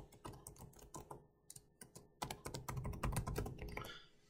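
An email address being typed on a computer keyboard, with quick bursts of close, crisp key clicks, brief pauses between groups, and a denser run of keystrokes toward the end.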